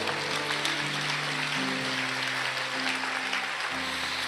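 A church congregation claps together in a fairly faint, continuous ripple of applause, heard over a sustained low musical backing.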